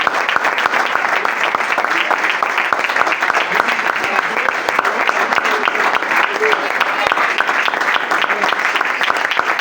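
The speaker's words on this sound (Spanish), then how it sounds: "Ese aplauso más fuerte para Jesús." A church congregation claps loudly and steadily for Jesus during a Spanish-language worship service, a dense, continuous wall of applause with no pauses.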